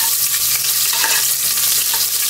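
Ginger sizzles and fries in a hot pan for native chicken adobo, a steady close crackle with light stirring scrapes and no voices.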